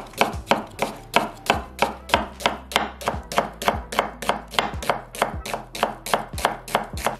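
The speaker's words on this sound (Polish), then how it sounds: "Cebulę przekrawamy na pół i kroimy w takie półplasterki." A knife chops a halved onion into half-slices on a board, about twenty crisp, close strokes falling in a steady, fast, even rhythm, with no voices.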